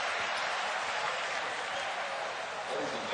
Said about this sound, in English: And does the crowd love it?